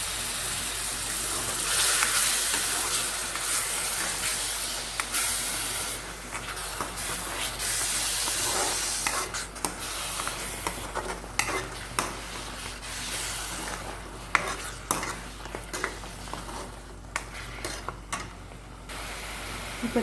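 Tomato paste frying in a pan with onions for a parotta salna, giving a continuous hissing sizzle with scattered crackles and pops, steady and close, with no voices over it.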